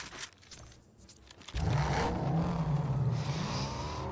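A car driven in the video game Fortnite: the engine roars up loudly about halfway through and keeps revving with a steady, droning pitch after a quieter stretch of game ambience.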